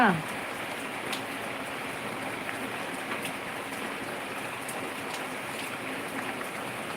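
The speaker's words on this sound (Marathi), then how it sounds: "नांदेड जिल्ह्यात पाऊस आहे" Steady heavy rain falls throughout in Nanded district, Maharashtra, a dense, even hiss of drops with no breaks, fairly close and moderately loud.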